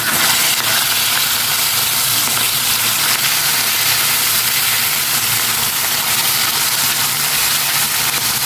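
Loud, continuous sizzling of galunggong (round scad) frying in hot oil, close up and unbroken, with no talking.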